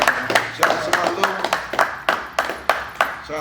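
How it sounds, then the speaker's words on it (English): A small group claps in quick, uneven bursts, about a dozen sharp close claps over a few seconds, with voices talking through it. "Clap that up again"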